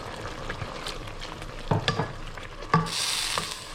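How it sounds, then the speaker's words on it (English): Mushrooms sautéing in a pan for risotto as white wine is poured in: steady close frying and stirring with a few knocks of the spoon, then a louder, brighter sizzle burst as the wine hits the hot pan. "So we sauteing the mushrooms. It's been about 5 minutes now. We're just going to add some white wine to it."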